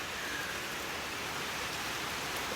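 Steady, dense hiss of rain falling outdoors during a hurricane, an even broadband wash with no pauses and no voices.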